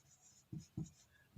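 A pen writes on paper in a couple of short scratchy strokes, faint and close, with soft background noise and no talking.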